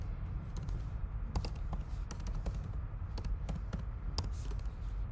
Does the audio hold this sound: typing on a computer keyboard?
yes